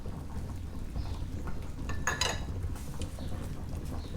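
Sausages and red onions being stirred into gravy in a pan: quiet metallic scrapes and clinks of a utensil against the pan over a low steady background, a slightly louder scrape midway.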